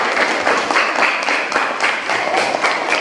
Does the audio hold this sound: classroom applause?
yes